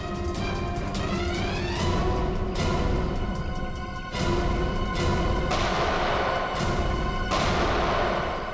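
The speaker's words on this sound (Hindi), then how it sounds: "वहां से चल रही है गोलियां।" Gunfire from a TV crime show: a sustained series of heavy booming shots and sharp cracks over a dense rumbling background, loud and continuous with several distinct bursts and no voices.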